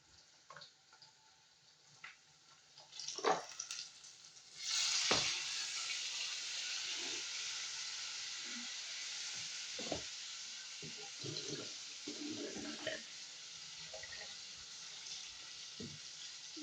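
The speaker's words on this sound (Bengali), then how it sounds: "আসলে আমি এই মাংসটা কষিয়ে নেব সামান্য" Meat for biryani hits a hot pan and sizzles, a steady frying hiss following a few clatters, with occasional stirring knocks and scrapes throughout.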